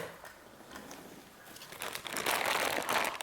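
The plastic top of an indoor mushroom grow bag is cut off by a gloved hand, giving close crinkling and rustling that starts soft and grows louder and busier toward the end, with no talk.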